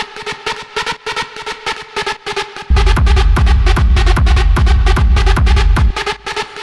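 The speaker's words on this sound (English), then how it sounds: "if I apply some pitch modulation, you're gonna hear pitch is going up and down." Techno synth preset for industrial and rave styles, its pitch wobbling up and down under LFO modulation, playing a fast, loud pulsing pattern that fills out with heavy low-end thumps partway through.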